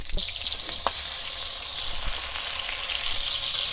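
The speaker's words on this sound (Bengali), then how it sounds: "তেলটা ওরকম গরম হওয়ার পরে এখন পেঁয়াজ দিয়ে দিলাম।" Onions hit hot oil in a wok while making restaurant-style masala noodles, producing a loud continuous sizzle with a few stirring knocks, and no voices.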